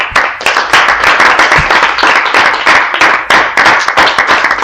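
Loud, close applause from a church congregation, a dense patter of many hands clapping steadily throughout with no speech over it.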